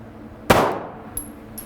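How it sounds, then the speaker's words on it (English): A single sharp pistol shot from a handgun fitted with a Holosun 507C red-dot sight, fired at a target on a range, loud and close, followed by a brief ringing decay and a fainter metallic clink. "So there's one shot."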